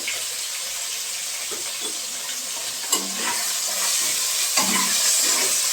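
Spice paste with ginger and salt sizzling and being stirred in a pan for a vegetarian cauliflower dish, a steady bright hiss with intermittent scraping strokes and a couple of sharper spatters, close and fairly loud.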